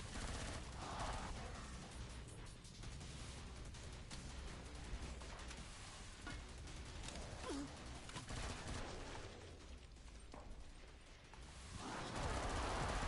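Heavy, continuous gunfire in the video game Killing Floor 2, a dense wash of rapid shots and blasts that runs throughout and swells louder near the end, with no voices.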